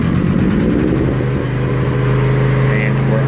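Riding mower engine with the choke on and throttle fully open, loud and close, cranking over and catching, then holding a steady high-revving drone.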